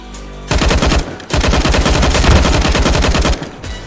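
Rapid automatic gunfire in a Counter-Strike-style shooter, with loud, close bursts of fast repeated shots broken by a short pause, then a second long burst that stops abruptly.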